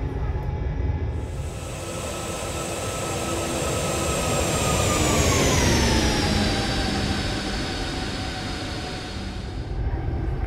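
Jet airliner engines spool up in a flight simulator game, a loud continuous roar with rising and falling whine tones as the plane accelerates down the runway for takeoff.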